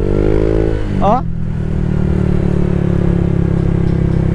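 A motorcycle fitted with an aftermarket T4S exhaust pipe blips its throttle in a quick rising rev, then settles into a loud, steady rumble that carries on close by to the end.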